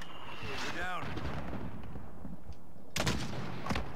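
Mortar fire booms in Call of Duty Modern Warfare as a few sharp, loud blasts rise out of steady battle noise, with a whistling sweep heard early and voices under the action.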